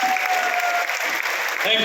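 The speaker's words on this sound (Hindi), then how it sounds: "जोरदार ताली।" Loud, dense applause from an audience at a Safe Shop event, steady clapping throughout with a brief whistle-like tone near the end.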